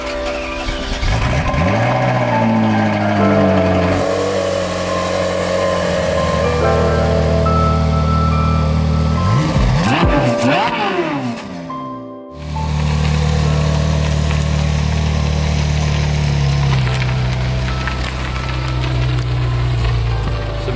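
A Ferrari 458 Italia being unloaded from transport, its engine running loud and close with shifting revs, a brief dip near the middle before the steady mechanical drone resumes.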